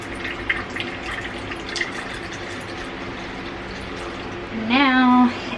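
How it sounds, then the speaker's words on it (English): Water poured into a large bowl for a bread starter, a short rising fill near the end after a stretch of quiet kitchen sounds and faint drips. "Place the starter water in a large bowl"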